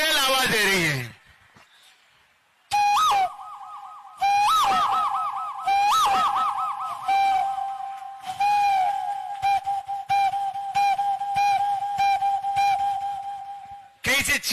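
A voice imitates a koel calling with repeated rising whistled notes in bursts, loud and close over a microphone at a public event in Jharkhand, with short pauses between phrases.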